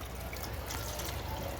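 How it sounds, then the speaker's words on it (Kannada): Water pours into a pot of potato and green chili curry cooking on the stove, a soft continuous trickle and splash, fairly faint and close. "ಇದಕ್ಕೆ ಎಷ್ಟು ಬೇಯೋಷ್ಟು ನೀರು ಹಾಕ್ತಾಯಿದ್ದೀನಿ"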